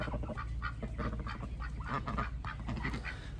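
Pet ducks give soft, nasal quacks and honks, close by and quiet, in a steady chatter of calls with no talk.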